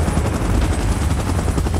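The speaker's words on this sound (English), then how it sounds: "Chopper in position." Helicopter in PUBG Mobile hovering close by, a loud continuous rotor chop with dense rumbling noise throughout, no voices.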